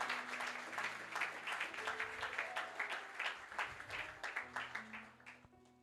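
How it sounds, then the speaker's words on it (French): Applause from a church congregation for a person returning to their seat after a sermon moment, a brisk burst of clapping that thins into rhythmic claps and fades, with a faint sustained tone underneath. "Est-ce que nous pouvons l'encourager par nos acclamations?"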